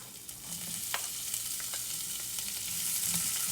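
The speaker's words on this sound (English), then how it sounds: "Now we add the chopped onions." Chopped onions and whole cumin seeds frying in hot oil give a steady, close sizzle with a few sharp pops and crackles, heard alone without any talk.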